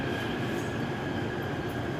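A metro train in Taiwan rumbles steadily along, a dense continuous roar with a faint high whine, heard from inside the carriage.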